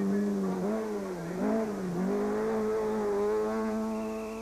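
Rally car in Total Rally 2006 racing past spectators, its engine loud and close with a steady whining drone that dips as the driver lifts off, then climbs again as it accelerates past.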